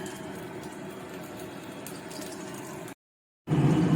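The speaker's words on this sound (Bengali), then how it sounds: "বেগুনি ভাজছি বন্ধুরা হয়ে গেছে প্রায় ভাজা" Cucumber beguni fritters frying in hot oil, a steady close sizzle and bubbling hiss that cuts out briefly, then returns louder with a stronger crackle.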